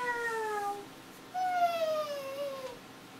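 A small child imitates a cat's meow twice, two drawn-out falling mewing cries with a short pause between them, close to the microphone in a quiet room.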